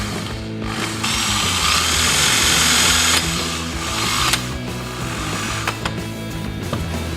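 A big screwdriver fitting a bracket during installation gives a steady, loud mechanical ratcheting and grinding that runs throughout, with some clicks near the end.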